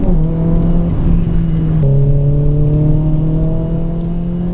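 A Renault Clio 3 RS with a naturally aspirated 2.0-litre engine and an Akrapovic exhaust holds a loud, steady rev close by, its droning tone stepping slightly higher partway through, with no talking.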